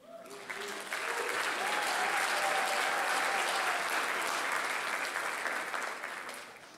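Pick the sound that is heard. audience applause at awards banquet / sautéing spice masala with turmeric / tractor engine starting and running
audience applause at awards banquet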